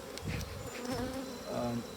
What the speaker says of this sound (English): So we have bees all the way across.